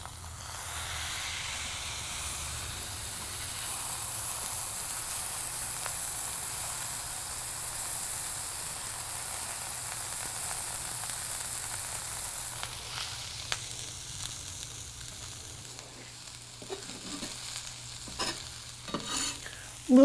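Ground pork belly sizzles steadily on a hot iron grate, a continuous bright hiss with a faint low hum beneath, followed near the end by a few sharp clanks and scrapes as the meat is smashed.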